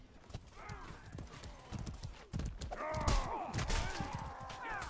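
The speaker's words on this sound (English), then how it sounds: "We gotta do something about these horses." Horses galloping and neighing in the medieval combat video game Mordhau, with a steady clatter of hooves and repeated whinnies rising over the busy noise of battle, loud and close.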